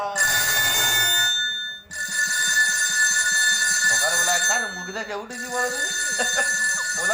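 A mobile phone rings loudly with a steady, electronic repeating tone that pauses briefly and resumes, while a voice talks over it during a comic folk-song skit.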